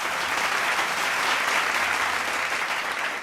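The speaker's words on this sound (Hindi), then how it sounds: "प्रबंधन का परिवार, एक बार ताली इनके लिए बजाए।" Steady, loud applause from an audience at a school New Year event, continuous dense clapping throughout with no voices standing out.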